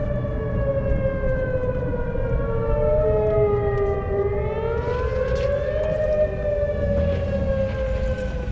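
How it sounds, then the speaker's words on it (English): Outdoor tornado warning siren in Oklahoma during a severe storm, a loud sustained wail rising and falling in overlapping tones, heard alone with steady wind and rumble beneath it. "That's like the spookiest tornado siren I've ever heard."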